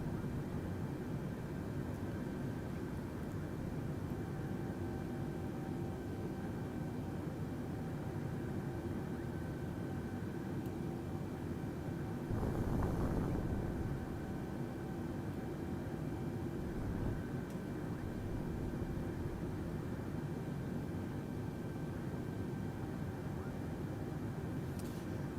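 Steady broadband cabin drone inside a domestic airliner on a roughly 45-minute New Zealand flight crossing the Southern Alps, a constant engine and airflow roar with a brief louder swell midway.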